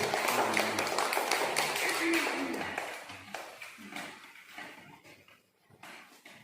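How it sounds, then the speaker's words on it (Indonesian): Students in a classroom clap for a classmate during a lesson. The dense burst of hand claps is loudest over the first few seconds, then thins and fades into quieter room noise. "Kita tepuk tangan untuk David."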